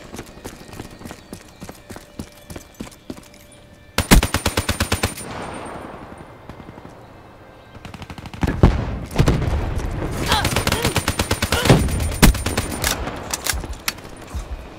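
Rapid automatic gunfire in Call of Duty Black Ops 3, a loud close burst followed by a longer sustained volley with rattling shots and in-game effects.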